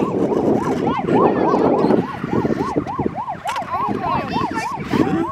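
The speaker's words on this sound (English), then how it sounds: "Ambulance. Or police." A loud emergency siren from an ambulance or police vehicle wails in a fast repeating rise-and-fall pattern, continuing steadily over background street noise at a park in Australia.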